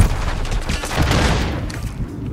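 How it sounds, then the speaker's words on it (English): Loud explosion-like bursts and crackling gunfire from a Search and Destroy match in a video game, a dense, continuous barrage of booms and rattling shots lasting a couple of seconds with no break. "He got blown up."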